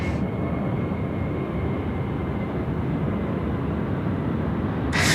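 Qantas Airbus A321 jet at Sydney Airport, a steady loud broadband roar of engine noise holding evenly throughout, close and unbroken, with no voices.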